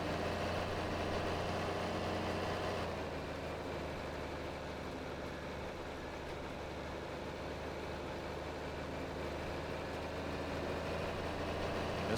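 Simulated tractor engine in Farming Simulator 22 hauling a 6-row planter uphill, a steady low droning hum that dips slightly after a few seconds and then holds at an even level with no voices.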